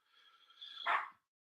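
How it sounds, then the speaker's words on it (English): A small dog barking in another room, a single muffled bark preceded by a faint whine, distant and quiet, heard alone. "I've got a Napoleonic dog in the other room that barks at any leaf"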